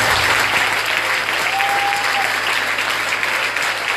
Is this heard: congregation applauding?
yes